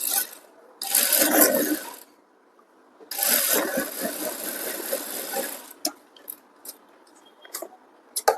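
A sewing machine runs in two close, steady bursts of whirring motor as it stitches a 38-size four-tuck blouse, followed by a few scattered clicks and light handling sounds, with no talking.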